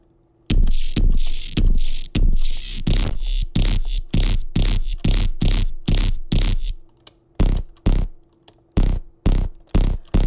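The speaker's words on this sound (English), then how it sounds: "which is a Neuropluck I made like 3 years ago." Distorted saw-wave Neuropluck synth fires a rapid, rhythmic series of loud, punchy pluck stabs, evenly spaced, with a brief gap before the pattern resumes more sparsely.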